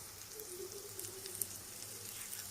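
Chicken pieces fry in a pan for chicken vepudu, giving a faint, steady sizzle with a light crackle and no talking.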